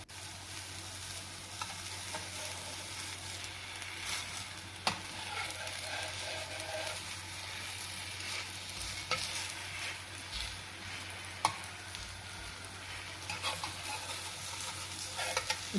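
Dosa batter cooks on a hot pan with a continuous soft sizzle and crackle, punctuated by a few sharp scraping taps, alone without talk.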